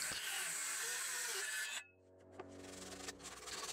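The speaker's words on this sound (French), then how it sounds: "je fais un léger ponçage comme d'habitude" Steady rasping of sandpaper lightly sanding a wooden garden chest for under two seconds, then it stops, leaving a quieter hum and a few light knocks.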